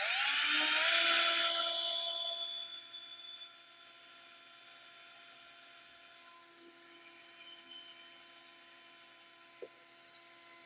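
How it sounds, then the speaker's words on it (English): A power drill with a bit bores into a Honda Civic part, an 8th-generation Civic Si, giving a sustained high whine that starts loud and settles into a steady tonal drone with slight swells. "I got my drill gun and drill bit, and we're going to start this."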